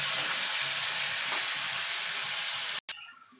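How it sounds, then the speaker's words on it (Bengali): Tomatoes with salt frying in a pan for masoor dal give off a loud, steady sizzle and hiss, stirred now and then, before the sound cuts off abruptly near the end. "টমেটোটাকে একটুখানি নাড়াচাড়া করে নেব। একটুখানি নুন দিয়ে দেবো যাতে টমেটোটা তাড়াতাড়ি নরম হয়ে যায়।"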